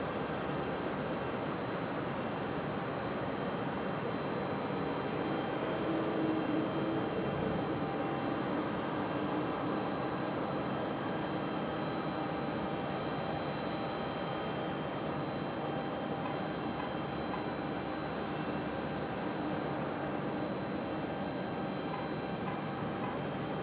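An MD-11 airliner at Raleigh-Durham International Airport gives off a steady, broad jet-engine roar that holds for the whole stretch with no voices over it.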